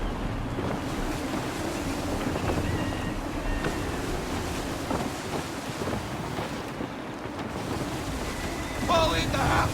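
Wind blows steadily over the open sea while a sailing ship cuts through the waves in Assassin's Creed III, a constant loud rush with surf and water noise and faint voices in the background.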